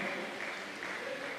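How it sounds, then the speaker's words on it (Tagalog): Congregation clapping during a Wednesday church service, a brief, steady patter of applause at a fairly low level. "Malakas sa palakpak para sa ating mahal na Panginoon."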